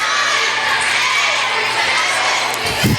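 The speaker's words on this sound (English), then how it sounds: "Crowd's counting early." A women's college basketball crowd in a gym at Ohio Northern versus Wilmington chants in unison as it counts down the shot clock. The voices form a steady, broad roar, with a brief thump near the end.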